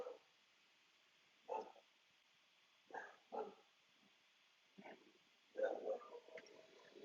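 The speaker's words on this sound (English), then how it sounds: "Oh no, the dogs are going crazy." Several dogs bark in excited bursts indoors, a few spaced yips and barks followed by a longer flurry of overlapping barking, moderately distant and fairly faint.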